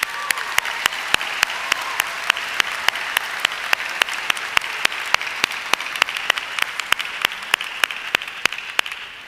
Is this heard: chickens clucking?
no